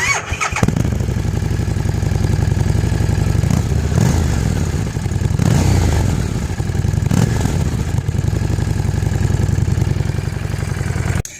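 A 2015 Harley-Davidson Street 750 with its factory muffler cranks and starts, then settles into a loud, close, steady lumpy idle with a few blips of the throttle.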